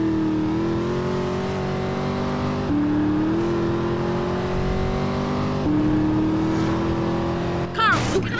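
Car engine in GTA San Andreas pulling away, a steady loud drone that climbs in pitch through a couple of gear shifts, with a brief squeal or scrape near the end.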